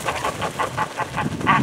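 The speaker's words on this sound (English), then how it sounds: "these lucky geese are going to get to go eat in the barn, so going to run them in here" A flock of American Buff geese honks and clucks in winter while being herded into a barn, a rapid series of short repeated calls at an even rhythm, fairly close and clear.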